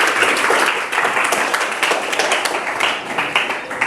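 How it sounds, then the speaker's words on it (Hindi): A classroom audience gives dense, steady applause for a student project proposal. The many hands clap continuously and loudly for a few seconds, with some slight swells in the sound. "जोरदार तालियां इनके लिए भी।"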